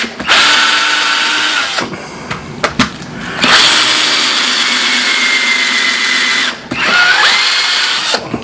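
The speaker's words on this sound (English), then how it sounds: "then flip it over and drill the other side" A drill bores through a mod coil part, loud and close, running in long continuous bursts with short pauses and clicks between them.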